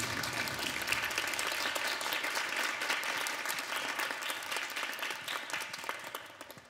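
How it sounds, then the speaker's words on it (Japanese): Audience applause at a wind orchestra concert, dense continuous clapping from a crowd that thins slightly toward the end. "皆さんもう一回拍手をお願いします"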